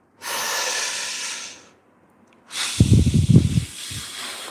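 Deep, forceful Wim Hof style breathing, close to the mic: a long steady hissing inhale, a pause, then another loud rush of breath with rough, snorting bursts.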